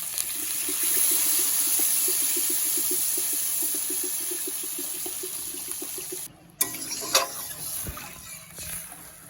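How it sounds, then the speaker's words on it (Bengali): Water is poured into a pan of fried chili paste while cooking taro for a rohu fish curry. A steady gushing pour with some sizzling lasts several seconds, then gives way to a few clatters and quieter bubbling. "লঙ্কা বাটা দিয়ে একটু নিয়ে জল দিয়ে দেবো।"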